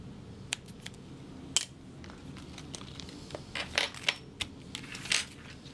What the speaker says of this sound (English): Make a little snip on both the back and the front of my gusset